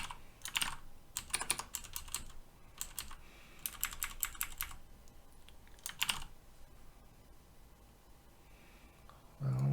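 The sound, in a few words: typing on a computer keyboard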